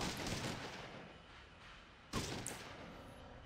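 Gunfire from the video game Fallout 2: a dense, steady rush of shots with no pauses, then one sharper, louder crack partway through that keeps ringing. No one speaks.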